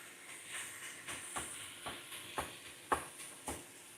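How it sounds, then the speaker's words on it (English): Minced beef sizzles quietly in a pan, a soft steady hiss punctuated by regular scraping taps of a utensil roughly every half second, with no voices. "minced beef is just so quick to cook"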